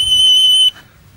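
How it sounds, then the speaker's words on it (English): A Neopost mail screening machine sounds its audible alarm for a suspicious envelope: a single loud, steady high-pitched electronic tone lasting about two thirds of a second, then cutting off sharply into quiet. "has an audible alarm to alert the user as to what's actually, that there's something rather suspicious within one of those envelopes"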